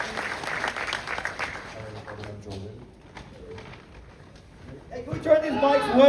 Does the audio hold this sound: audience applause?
yes